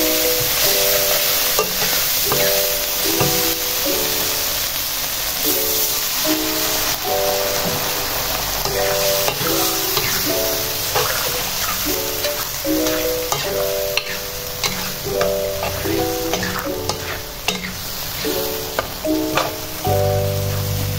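Sayur lombok mercon, a spicy chili vegetable dish, sizzles steadily in the pan as a little water is added, the hiss running throughout under a melodic music background.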